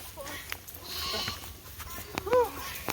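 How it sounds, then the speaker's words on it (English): A sheep on a farm, about to be sheared, lets out a short wavering bleat among scattered knocks and shuffling, while people speak quietly in the background. "Poor sheep."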